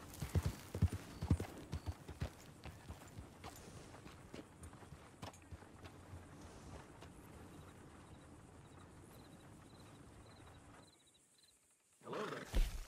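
Hooves clip-clop from a horse in Red Dead Redemption 2, a string of distinct clattering steps near the start that settles into a steadier, quieter background before dropping away, then a louder burst at the end.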